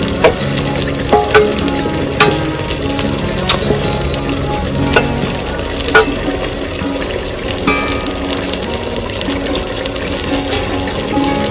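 Boiled prawns frying in a pan with pumpkin, a loud, steady sizzle with bubbling crackle and regular scraping strokes of a spatula, close up and without talk.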